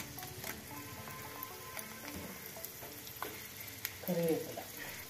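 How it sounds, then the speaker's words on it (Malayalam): Mustard seeds, fenugreek and dried red chillies sizzle and crackle in hot oil for a Kerala-style tempering, a soft steady frying hiss with a brief louder burst of spluttering near the end. "കടുക് ഇടുകയാണ്. ഒരു നുള്ളി ഉലുവ, ജാറ് വറ്റൽ മുളക്,"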